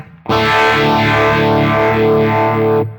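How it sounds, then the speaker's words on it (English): A loud, distorted electric guitar chord sustains while a Quad Cortex 45-type phaser sweeps up and down in a slow, regular whooshing cycle. "you'll just get a more pronounced kind of phase effect with the 90 than you will with the 45"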